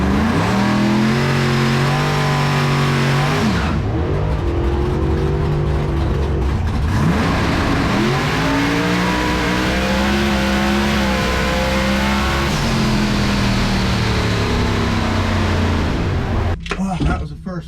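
A 2800-horsepower Hemi-powered Foxbody Mustang makes a full-throttle drag race run, its loud engine climbing steeply in pitch through several gear shifts, heard from inside the car, then cutting off at the end.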